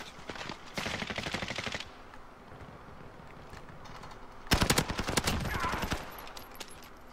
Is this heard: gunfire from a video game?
yes